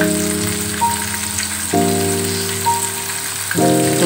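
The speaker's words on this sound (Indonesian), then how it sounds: "goreng saja seperti biasa ya Bunda, sampai matang dan nanti warnanya agak kecoklatan" Chicken intestines deep frying in hot oil give off a steady sizzle and crackle, overlaid by a sustained tonal hum that shifts pitch in steps, close and continuous without speech.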